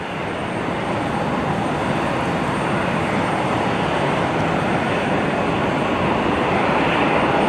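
A medical Learjet passes at an airport, its steady, loud broadband jet roar filling the whole stretch without a break and no voices over it.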